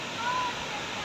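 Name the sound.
Gatitika Twin Falls waterfall, Kirinyaga, Kenya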